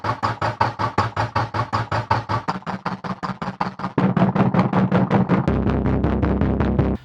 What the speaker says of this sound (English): what you hear is this like super low rumbling bass that's like super heavily sidechained